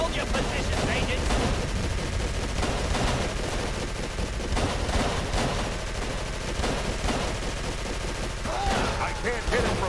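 Sustained gunfire from FBI agents in the video game Call of Cthulhu: Dark Corners of the Earth, with loud, rapid overlapping shots that run continuously throughout while a voice shouts over the battle.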